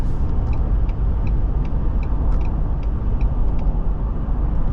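A 2020 Ford Expedition SSV police SUV accelerating hard, its engine a dense, steady roar heard from inside the cabin, with road rumble blanketing everything and faint ticking above it.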